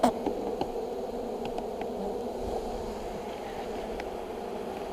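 Honeybees buzz in a steady, dense swarm hum while being brushed into a new hive, with a few faint knocks and rustles over the continuous drone.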